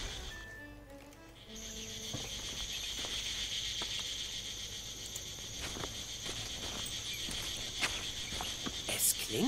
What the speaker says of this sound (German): Es klingt, als ob das Grillenzirpen aus der Tanne kommt.